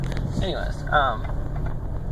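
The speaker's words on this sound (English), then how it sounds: "The engine's running right now." The 2001 Town and Country minivan's engine, which has had a misfire problem traced to a bad coil, idles as a low, steady hum beneath a man's brief speech.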